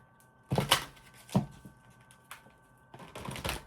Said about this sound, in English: let me just give a few shuffles here.